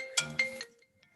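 A mobile phone ringtone goes off in a quiet courtroom during a hearing, a short bright chiming burst of two or three tones that fades out quickly.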